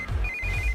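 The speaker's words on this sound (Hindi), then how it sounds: "इस वक्त दीदी का फोन।" A phone ringtone plays as a steady electronic tone with a quick pulsing pattern, heard under a low background hum in a scene from a Hindi-dubbed South Indian film.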